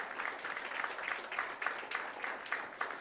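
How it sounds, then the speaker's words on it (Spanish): A church congregation applauds during a sermon, with many hands clapping in a lively, fairly rhythmic patter that stays even throughout, at moderate distance. "Dele un fuerte aplauso al Señor"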